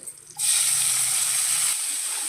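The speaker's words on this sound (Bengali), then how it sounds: "টমেটোটা একটু ভেজে নিতে হবে" Chopped tomato drops into hot oil with black cumin and green chillies, bursting into a loud, steady sizzle after a brief quiet moment and then hissing continuously.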